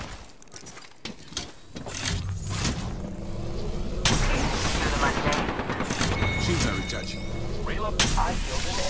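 Apex Legends ranked match gunfire: repeated sharp cracks and bursts of automatic fire over a steady din of game effects, with people talking throughout.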